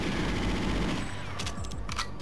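Automatic gun turret firing in GoldenEye 007, a dense rapid burst of gunfire that rattles continuously throughout, loud and close, with a few sharper bright cracks near the end.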